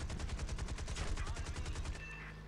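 Rapid bursts of aircraft gunfire in War Thunder during a dogfight against a Heinkel 111 bomber, a steady rattling stream of close, loud shots that cuts off near the end.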